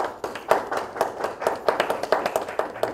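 Audience applause at a Hindustani Easter poetry gathering (mushaira), a steady crowd of hands clapping in dense, even rhythm through the whole stretch, moderately loud and close, with no voices over it.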